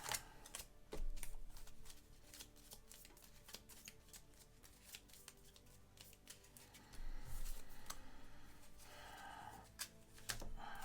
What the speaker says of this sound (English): I need to do a quick little shuffle